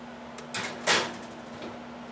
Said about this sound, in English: I left the door in the oven open